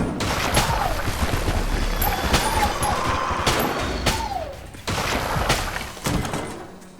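Rapid bursts of gunfire, shattering impacts and thuds from the video game Enter the Gungeon come in a busy, uneven barrage over a steady game soundtrack.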